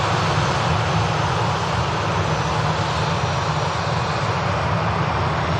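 A jet airliner's engines spool up at Manchester Airport, a loud, constant broadband roar that holds steady throughout with no breaks.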